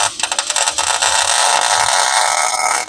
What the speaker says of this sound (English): Let me weld another spot over here. Right here, I'm gonna weld.